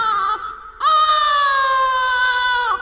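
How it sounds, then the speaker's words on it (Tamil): A newborn baby wails loudly as an audiobook sound effect, a short cry followed by a long sustained, steady-pitched howl close to the listener, with no talking. "குழந்தை அழும் ஒளி நன்கு கேட்டது."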